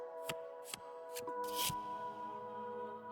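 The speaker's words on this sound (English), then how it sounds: "Think about Adina while I shuffle my deck." A deck of cards is shuffled in the video game Cosmic Wheel Sisterhood, a few crisp flicks and one longer riffle sitting over a steady, soft tonal music bed.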